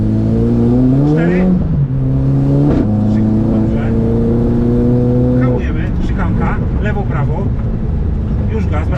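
Renault Clio engine revs and climbs in steady rising pulls, dropping between shifts, with a second car audible later as another person talks over it.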